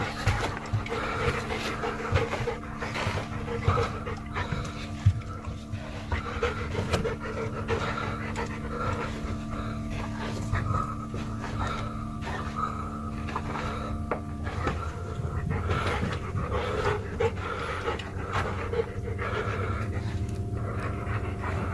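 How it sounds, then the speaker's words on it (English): A dog panting steadily and rhythmically up close, continuous fast breaths running throughout with a low background hum. "cute dog."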